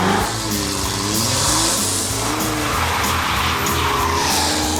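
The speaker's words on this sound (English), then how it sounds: "it's time to burn some tires." A Land Rover Defender does a tire burnout, tires squealing and skidding continuously over a loud, revving engine that stays strong and close throughout.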